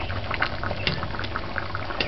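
Pot of salt codfish stew peas at a rolling boil, thick bubbles popping and plopping continuously up close, a dense steady bubbling with occasional louder bursts and no talking.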